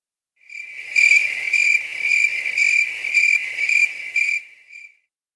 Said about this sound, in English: insert crickets